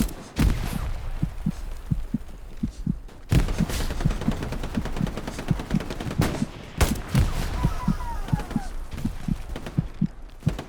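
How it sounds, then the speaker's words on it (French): Gunfire in a shooter video game: rapid bursts of automatic shots with sharp, evenly spaced reports, heavy and continuous, with a player talking over it. "C'est à mon nord que ça tire."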